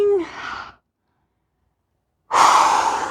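Deep breathing during a yoga flow: a long audible exhale trails off into silence, then a strong, breathy inhale or sigh follows, close to the mic and fairly loud.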